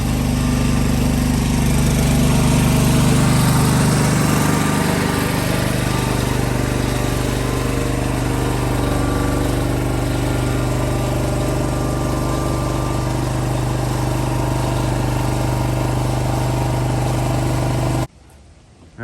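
A vintage garden tractor engine, weighted and fitted with a cast, runs steadily and loudly throughout at a constant idle-like drone before cutting off abruptly near the end, with no talking.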